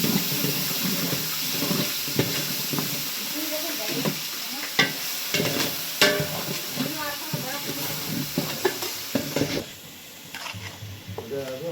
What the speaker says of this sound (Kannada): ಇವಾಗ ಮಟನ್ ಸಾರು ಮಾಡ್ಕೊಳ್ಳೋದಿಕ್ಕೆ ಅಂತ ಒಗ್ಗರಣೆ ಹಾಕೊತಿದ್ದಾರೆ ನಮ್ಮ ಮಾಮ ಮತ್ತು ನಮ್ಮ ತಾತ ಮಾಡ್ತಿರೋದು